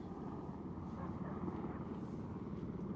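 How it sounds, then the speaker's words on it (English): A Sea King helicopter flies overhead near the coast at Perranporth, Cornwall, making a broad, rumbling roar that stays steady and fairly loud the whole time. "So can you see the Sea King helicopter there? Oh, it's coming right towards us."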